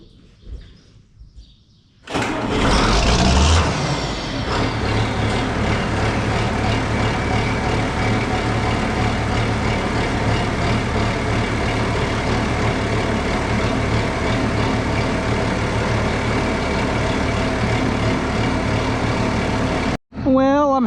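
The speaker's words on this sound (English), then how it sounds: "get this 7800 started up and get the thing backed under that auger" A John Deere 7800 tractor cranks and fires at a farm where corn is being loaded from an auger, then settles into a loud, steady diesel rumble that runs close and continuous for the rest of the stretch.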